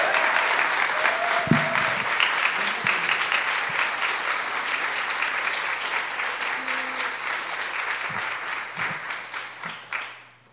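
An audience applauds to welcome a speaker to the stage, dense sustained clapping filling the room for about ten seconds before it thins out and fades at the end.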